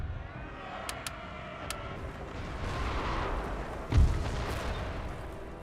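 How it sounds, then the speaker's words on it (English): Napoleon Total War battle sounds, with cannon artillery barraging: one heavy boom stands out against a dull rumbling battlefield and a few sharp cracks, all fairly distant and faint. "Make sure my 12s are barraging again."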